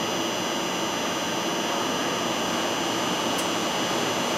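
A pump motor on a variable frequency drive runs as it ramps up its RPMs, a dense, steady, loud whirring roar with a faint high whine, continuous and alone.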